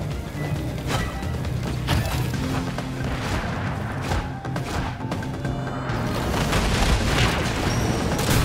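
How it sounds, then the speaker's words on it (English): Mega Rocket explosions in the video game Rocket Arena: a steady run of booming blasts and crashing impacts layered over continuous battle noise, loud and dense throughout. "Incoming Mega Rocket."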